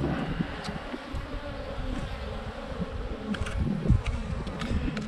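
Honeybees stirring in a hive give off a close, continuous low buzzing hum that swells slightly with the colony's agitation, with light handling noises over it.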